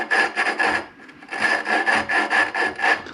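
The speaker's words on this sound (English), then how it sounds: "obviously you can tell from that sound, valve grinding compound is abrasive" Small engine valve being lapped by hand with abrasive valve grinding compound, a rough gritty rasping that repeats in steady back-and-forth strokes, close and fairly loud, with a brief pause partway through.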